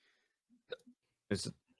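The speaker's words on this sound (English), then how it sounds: "my fucking hiccups piss me the fuck off right now" Faint hiccups come in short, sharp bursts, one clearly louder near the end, with small throat noises between them in a quiet room.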